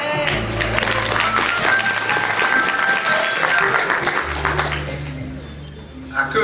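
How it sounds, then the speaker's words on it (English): A round of applause for the mayor of Macon fills the room, sustained crowd clapping that fades toward the end as a voice begins to speak. "Round of applause."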